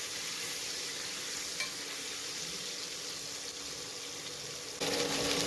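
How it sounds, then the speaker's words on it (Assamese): Fish heads frying in hot oil make a steady, close, even sizzle that continues unbroken and grows slightly louder near the end. "মাছখিনি ভালকৈ ভাজিলোঁ অলপ সময়"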